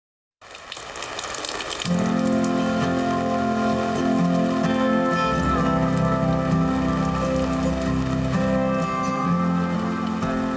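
Steady rain pours down on a tent in a constant dense hiss, with a continuous humming tonal layer beneath it.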